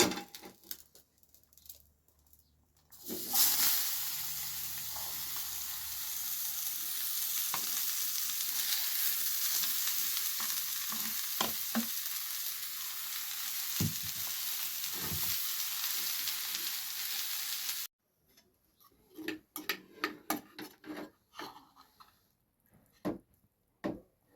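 Vegetables dropped into hot oil hiss into a loud, steady sizzle with occasional clinks and stirring, close by, then the frying cuts out to quieter clattering and handling.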